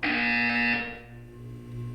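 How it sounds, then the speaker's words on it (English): A loud, harsh electronic buzzer in Portal 2 sounds for under a second, then cuts off and leaves a fading hum and a quieter low drone. "When you hear the buzzer, look down at the floor."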